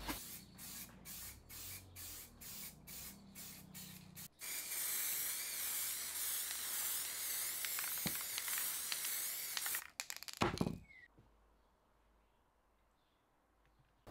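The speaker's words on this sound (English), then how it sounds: "give it a coat or several coats with some matte black spray paint." A series of short rattling shakes of a matte black spray paint can, then a long steady hiss of spraying, a brief clatter and quiet.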